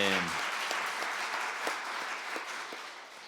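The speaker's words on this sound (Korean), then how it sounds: "우리 중등부 친구들, 교사들 격려의 박수를 한번 보냅시다" A church congregation applauds in encouragement of the middle school students and teachers, steady clapping that fades slightly toward the end, with a brief voice at the start before the clapping takes over.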